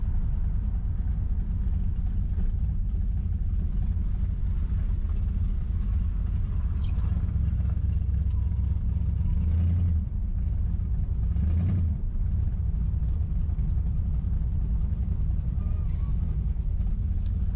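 A 1966 Ford Mustang's engine rumbles steadily while cruising, a loud, close, low drone that holds without break, with faint road whir and a couple of brief swells.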